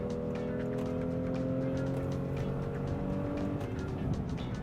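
A new Honda Pilot three-row family SUV accelerating hard, its engine note climbing steadily in pitch as revs rise, heard from inside over road noise, with no voices.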